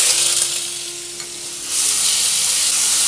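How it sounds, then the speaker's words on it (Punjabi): Ground onion, ginger and garlic paste fries in hot mustard oil over a medium gas flame, giving a steady, loud sizzle that dips briefly mid-clip and then surges back fuller, with no voices. "ਇਸ ਗ੍ਰਾਈਂਡ ਕੀਤੇ ਹੋਏ ਮਸਾਲੇ ਨੂੰ ਨਾ ਆਪਾਂ ਭੁੰਨਣਾ ਸ਼ੁਰੂ ਕਰ ਦੇਵਾਂਗੇ ਗੈਸ ਦੀ ਮੀਡੀਅਮ ਫਲੇਮ ਤੇ"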